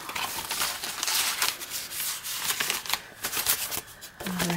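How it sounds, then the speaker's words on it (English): Papers sliding back into a paper envelope from a batch of mail, a close dry rustling and scraping that runs in quick uneven strokes for several seconds, with no talking. "We'll slide these back in the envelope."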